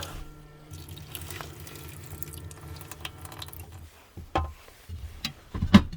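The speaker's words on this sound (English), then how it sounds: "you've got a good sized sink straight away, running water" Water runs from a tap into a small sink in a Mazda Bongo camper van, a steady splashing trickle with a few louder knocks and drips toward the end.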